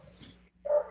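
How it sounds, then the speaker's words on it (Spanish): A dog barks once, a short, fairly loud yelp that comes after a brief lower grumble and a moment of quiet; the barking carries in through an open window. "se escucha mucho el ladreo"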